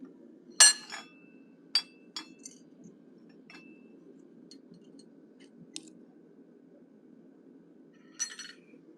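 Small curved chisel struck by a hammer while forging an animal head, a few sharp metallic clinks spaced apart, one loud strike then lighter taps, over a quiet hum, no speech.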